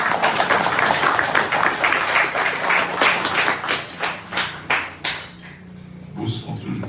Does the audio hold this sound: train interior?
no